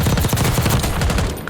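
Automatic rifle fire in the video game Warzone BO6, a sustained rapid burst of loud, evenly spaced shots during recoil control, with no talking.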